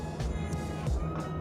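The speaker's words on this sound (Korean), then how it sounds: "지금 실외기가 돌아가는 소리 들리시죠?" A low, steady mechanical hum of an outdoor air conditioner unit in a remodeled apartment drones close by, with faint rumbling fluctuations over its brief length.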